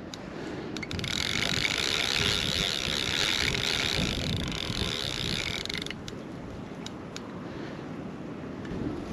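A carp fishing reel ratchets in a rapid continuous clicking as a hooked carp strips line during a powerful fight at a fishery lake, loud and close for about five seconds before easing off, with no talk over it.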